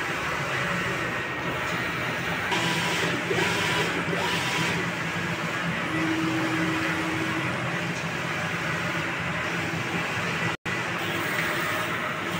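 A large-format 6 ft, four-head sublimation printer runs a nozzle test print, giving a steady mechanical whir and hum with faint carriage tones, nearby and continuous.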